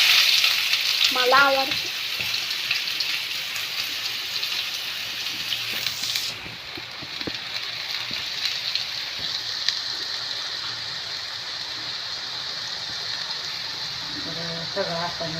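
Chopped onion frying in a pan makes a steady, close hiss that runs the whole time, with a few clinks of stirring and brief speech near the start and end.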